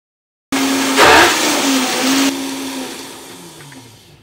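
A Vitamix blender runs at high speed, starting abruptly with a loud whining roar that surges and then gradually winds down, close up and alone.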